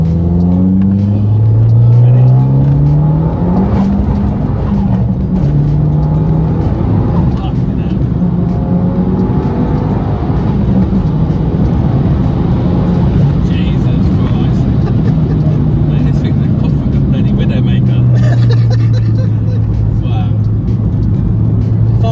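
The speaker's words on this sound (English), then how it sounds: "You guys can pick up all these crazy sounds the car's making." A big-turbo Abarth 595 engine drones and revs continuously up close, with turbo noises and pitch rising and falling through gear changes, with people talking over it.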